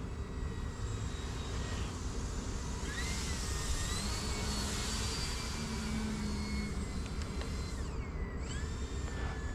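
E-flite Night Timber X RC airplane flying at night, a steady faint electric motor whine with slight pitch shifts as it passes, distant and continuous over outdoor background noise.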